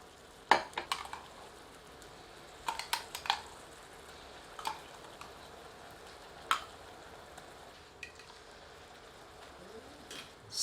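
Ground masala is stirred into mutton aloo jhol in a pan, with soft scraping and scattered metallic clinks of a spoon against the pan over a low, quiet sizzle, without talk.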